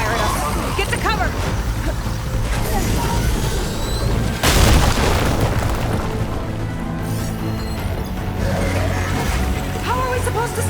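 A hostile machine opens fire on the player in Horizon Forbidden West Burning Shores, one loud booming blast landing midway amid continuous rumbling game action and character dialogue.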